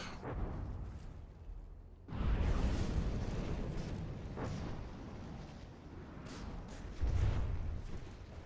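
Missiles firing and exploding in the submarine battle game From The Depths, with rumbling blasts and booms rolling one after another. A heavy impact comes near the start and another later on, all loud and without speech.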